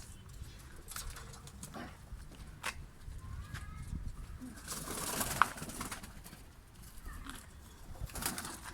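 Pigeons coo softly and repeatedly over a rustling, low background, with occasional wing flutters and faint distant noises.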